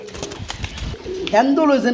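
Pigeons at a pigeon sale, where pairs are sold with eggs and chicks, coo near and fairly loud while someone talks over them.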